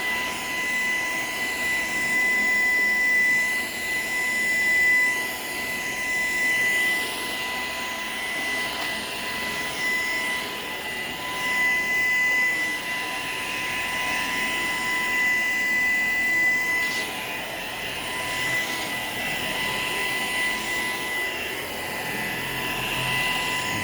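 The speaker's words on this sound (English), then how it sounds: "I have no complaints at all on this vacuum at all." A Shark Power Detect vacuum cleaner runs in eco mode on a kitchen floor, giving a loud, continuous whirring drone with a steady high whine and slight swells as it moves.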